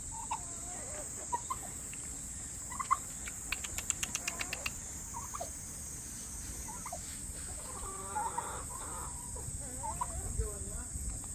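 Brahma chickens, a large breed, calling in a coop with scattered clucks and a short run of sharp calls, fairly faint against steady background hiss, with occasional quiet voices nearby.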